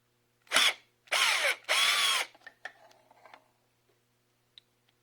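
A power tool, likely a drill, backing screws out of the rear of a milling machine head: three short whirring bursts, followed by faint metallic clicks and ticks, with nobody talking.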